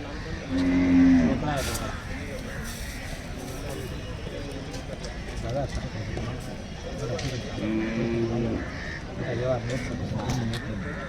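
Cattle at a busy bull market low and moo in a couple of loud, close calls, heard under steady chatter from traders with crowd noise all around.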